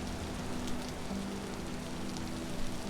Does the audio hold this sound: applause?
no